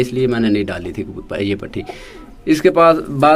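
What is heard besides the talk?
None of the usual background noises is heard.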